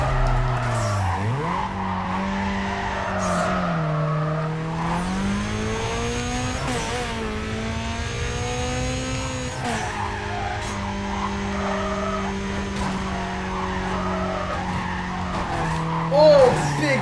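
Racing cars in Need For Speed Carbon skid and screech, with tire squeals and engine revs rising and falling over a game soundtrack, while someone talks over the action.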